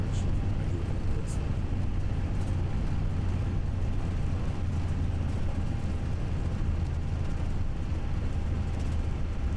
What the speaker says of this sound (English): Spoilers are extended, reverse thrust is working, and we're down to taxi speed.